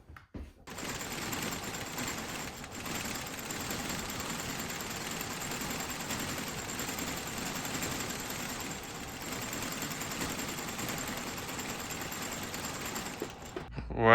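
Sewing machine stitching a thick leather midsole onto wedge-soled boots during resoling, a continuous steady mechanical whir and rapid needle clatter running throughout at moderate distance.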